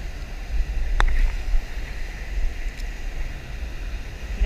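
Waves slap and wash against a small fishing boat out on rough water in the northeast monsoon during lure fishing, a low rumbling churn with gusty wind noise and an occasional sharp knock, no voices.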